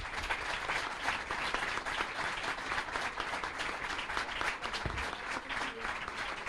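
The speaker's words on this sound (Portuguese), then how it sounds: "Por isso eu peço uma salva de palmas para esta família." Audience at a book presentation gives a sustained round of applause, dense steady clapping from many hands filling the room for several seconds, recorded somewhat distantly and fairly quiet.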